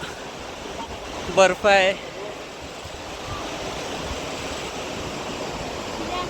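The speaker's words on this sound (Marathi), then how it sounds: "व्यास नदी बघा, आवाज येत असेल तिचा, खडखड पाण्याचा आवाज" The Beas river rushes steadily in a snowy mountain setting, a constant broad roar of flowing water throughout, with a brief spoken phrase over it near the start.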